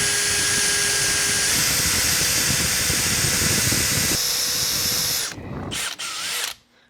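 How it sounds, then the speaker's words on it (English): A power drill bores small pilot holes into seized bolts on a 172cc Gilera Runner scooter, a loud, steady high-pitched whir that shifts pitch partway through, then winds down in short bursts before stopping. "just drilling the little pilot holes in them"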